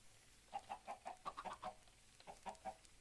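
Chickens clucking in the Minecraft video game, a series of short clucks in quick uneven bursts, moderately close and alone without talk.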